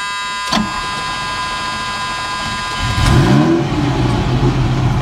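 A Ferrari 308 GTSi engine cranks and fires about midway, then settles into a deep, throbbing idle close by, with a thin electrical whine running through the whole stretch.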